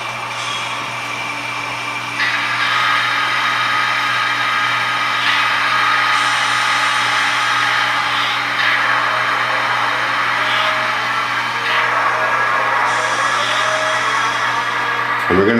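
Two DCC model locomotives, numbers 7600 and 7615, running together under throttle control, giving a steady close motor whine and hum with shifting tonal layers that continues alone for the whole stretch.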